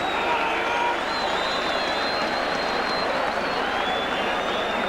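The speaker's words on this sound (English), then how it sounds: "Tremendous try. And aren't that good, big Halifax crowd delighted by it all." A big rugby league crowd at a Halifax Challenge Cup tie against Hull KR roars and applauds after a try, a dense, sustained wash of cheering and clapping that stays loud and steady throughout.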